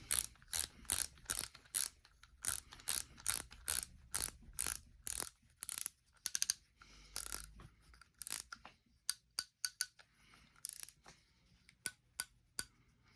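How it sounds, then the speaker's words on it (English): Spool being tightened down on a Daiwa AG1305X fishing reel, giving a steady series of sharp ratcheting clicks, close and crisp, that becomes more irregular near the end. "The spool. And let's tighten it down."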